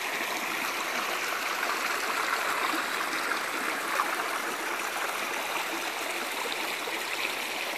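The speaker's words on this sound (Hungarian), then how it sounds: "A Gólbányai völgy patakjának kristálytiszta vize." A clear stream in the Gólbánya valley, Eastern Mecsek, Hungary, rushes and burbles steadily and close by, a constant bright splashing with no voices over it.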